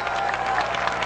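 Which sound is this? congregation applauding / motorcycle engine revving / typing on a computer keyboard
congregation applauding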